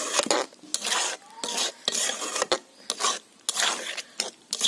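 Aloo dum with garam masala being stirred in a pan, heard as rhythmic scraping and rasping strokes of a spoon against the metal, close and loud with brief pauses between passes.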